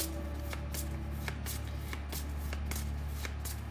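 Oracle cards shuffled by hand before drawing a Sacral Chakra card, a run of soft repeated riffling flicks in a steady rhythm over a constant low background hum.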